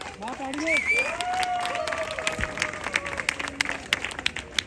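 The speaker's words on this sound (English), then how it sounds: "Claps, everybody!" A concert audience claps at a live performance by a singer in Barcelona, with scattered, uneven claps that grow sparser toward the end, and a voice speaking over them near the start.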